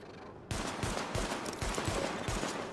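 A sidearm in The Division fires at highlighted targets in a steady run of about eight sharp, loud, evenly spaced shots after a short quiet start.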